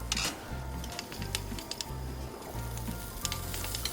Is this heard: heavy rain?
no